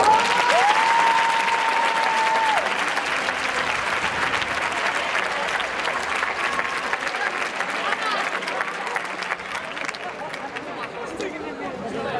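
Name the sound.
applause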